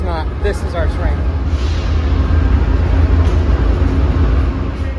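Amtrak Wolverine train with Siemens Venture cars rolls past close by in a loud, continuous low rumble, opening with a few brief high squeals.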